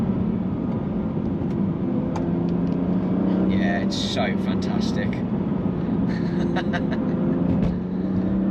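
A BMW M2 Competition drives on the road, its engine and tyre noise a steady low drone throughout, while someone talks over it from inside the cabin.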